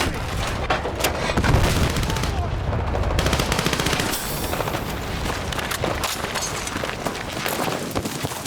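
Sustained machine gun cover fire in the Battlefield 6 video game, rapid dense bursts with booming shots running steadily throughout, close and loud amid battle noise.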